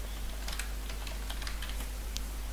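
Typing on a computer keyboard, soft scattered key clicks over a steady low hum, close and quiet with no talking.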